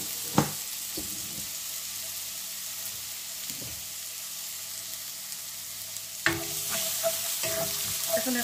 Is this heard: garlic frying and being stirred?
yes